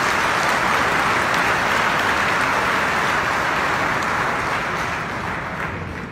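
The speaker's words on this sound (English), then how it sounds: "please give our performers another big round of applause" Applause for airshow performers at a grand opening ceremony, a dense, loud, continuous roar of many hands clapping that eases slightly toward the end.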